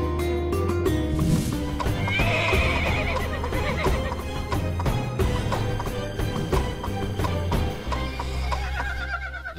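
Arabian horses neigh and whinny loudly and close by, with steady clip-clop hoofbeats and rustling throughout.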